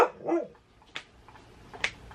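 Dogs in a family home give a few scattered barks and yips, moderately near, separated by quiet pauses and low room noise.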